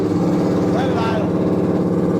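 Freshly installed engine idling steadily with a low, even rumble, close and loud, while people talk over it.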